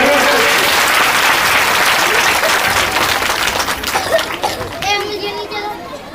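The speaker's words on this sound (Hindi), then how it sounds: "इनका जोरदार तालियों के साथ स्वागत।" Loud, dense applause from a seated audience at a Shiv Mahapuran religious katha, welcoming honoured guests; it runs steadily, then thins out toward the end while children's voices chatter faintly underneath.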